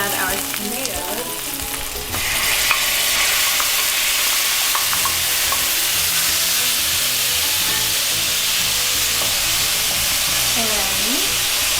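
Tomatoes hit a hot pan with onions for baingan bharta, bursting into loud, continuous sizzling and frying with occasional stirring scrapes, close and steady throughout.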